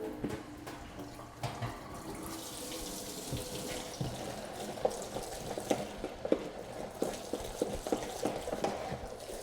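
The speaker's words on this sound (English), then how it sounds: "We're going to start to kind of agitate this around into the water" A pheasant skin is agitated by hand in lukewarm water with dish soap, giving a continuous close sloshing and splashing with small irregular watery spikes, steady throughout.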